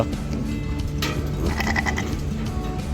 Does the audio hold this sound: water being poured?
no